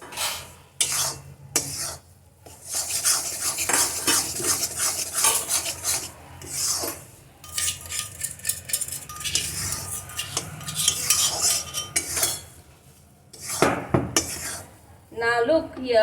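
Flour roasting in a pan for methi pak is stirred with a metal spoon, giving repeated close scraping and rasping strokes against the pan in irregular bursts with brief pauses.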